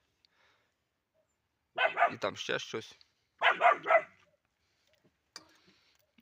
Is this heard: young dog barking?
yes